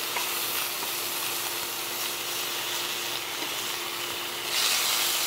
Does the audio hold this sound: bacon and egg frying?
yes